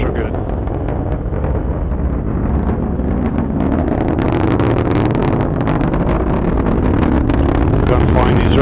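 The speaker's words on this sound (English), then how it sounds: "Booster engine continues to operate well." An Atlas V 501 rocket's booster engine roars with a dense, steady rumble during a launch of the X-37B spaceplane, continuous and loud throughout, while a voice calls out over it.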